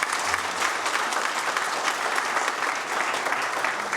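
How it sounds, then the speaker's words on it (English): An audience at an ICT innovation pitch night in Harare applauds a guest of honor, with steady, dense clapping from a crowd filling the room, loud and unbroken. "just clap hands for her"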